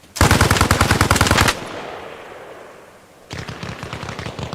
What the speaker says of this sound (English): Вы под обстрелом на базе Консул.